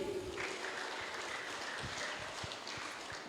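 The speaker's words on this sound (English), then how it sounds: "And keep the applause going." A pageant audience at a night event in Tuvalu claps steadily, a dense wash of applause heard from some distance with no voices on top.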